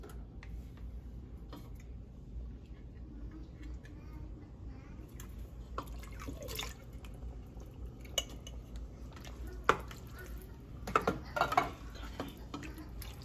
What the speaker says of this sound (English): So we're going to add our can of diced tomatoes.